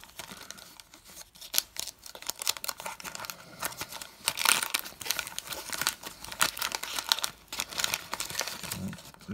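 A 1985 Topps baseball card wax pack is torn open, giving loud, close crinkling and crackling of the waxy wrapper in irregular bursts, with brief tearing rips and rustles between them.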